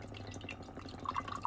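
Homemade soap drips into water, making a few soft, quick plops and small splashy drips near the end over a faint room hum, quiet and close with no talk.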